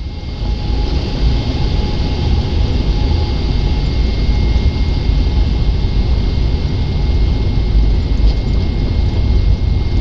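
Air Austral Boeing 777 jet engines spooling at takeoff thrust, a steady, loud, broadband roar with a faint whine heard from the cockpit, unbroken for the whole stretch.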